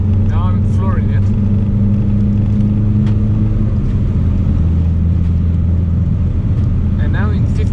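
A BMW E90 sedan accelerating at full throttle, its engine a steady low droning rumble that holds throughout from inside the car, with someone talking over it.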